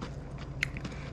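Close, crunchy bites and moist chewing of fried lemon pepper shrimp dipped in remoulade, with a few sharp crackles over a soft, steady mouth noise.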